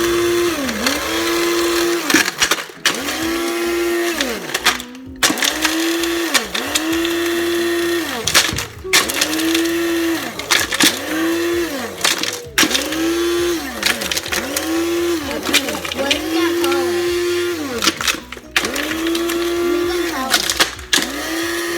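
A blender whirs loudly up close, its motor pitch rising and falling in repeated pulses as it crushes frozen ice.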